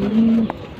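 A racing pigeon gives a single soft, low coo nearby, a short smooth call followed by faint background clicks.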